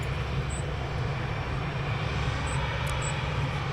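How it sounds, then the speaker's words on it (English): A TUI airliner taxiing at Manchester Airport gives a steady, continuous engine rumble and whine from some distance, with a few faint high-pitched chirps over the top. "So we've got TUI now taxiing out"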